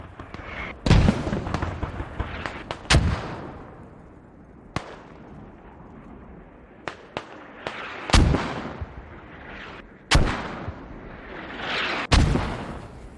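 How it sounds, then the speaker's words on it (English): Mortar rounds and explosions in a multiplayer war video game, a series of sharp, loud booming blasts spaced irregularly every second or two, some near and some farther off, with rumbling decay between hits. "So mortars are still just coming in onto the cap"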